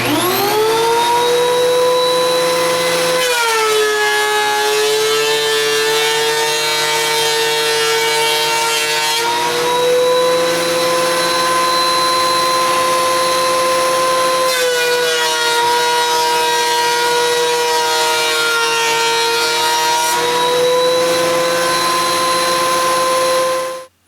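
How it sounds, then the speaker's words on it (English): A thickness planer runs boards through final passes down to 3/4 inch stock, a loud steady machine whine with strong sustained tones that shift as each board feeds through, the pitch dropping and recovering at several points across the run. "let's head over to the thickness planer and run these boards through for their final passes to get our 3/4 inch stock"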